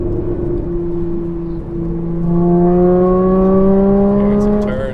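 A Porsche 981 Cayman with a Soul Performance exhaust, valves open, hums at a low steady pitch. It then builds into a loud rising howl as the car accelerates, heard close and continuous with a faint click at the end.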